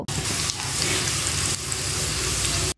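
Two dried chilies and chopped garlic fry in oil in a kadai for a dal tempering, a close, continuous crackling sizzle that stays loud and even from start to finish.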